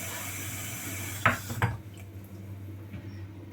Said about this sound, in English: put some warm water, fill it up